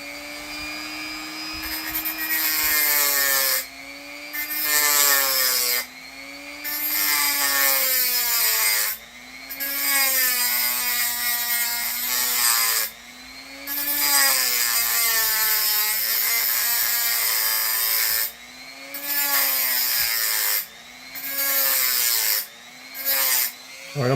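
Dremel rotary tool grinding a knife blade, a loud sustained high whine that rises and falls in pitch with brief pauses as pressure changes, mostly alone with little else heard.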